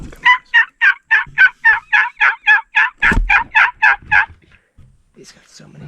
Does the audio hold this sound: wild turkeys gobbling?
yes